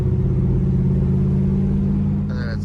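A big block car engine with a four-speed gearbox, heard from inside the car as a loud, close, deep rumbling drone held steady under acceleration, with a faint voice at the very end.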